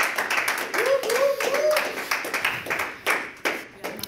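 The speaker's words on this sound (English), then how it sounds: "Can we give Lorianne Hayes a round of applause?" A small audience clapping for Lorianne Hayes at a network marketing talk, a modest scattered round with distinct individual claps and some voices underneath.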